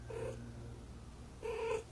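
A female cat in heat gives two drawn-out, moaning calls, each about a third of a second long with a gap between, close and fairly loud over a low steady hum.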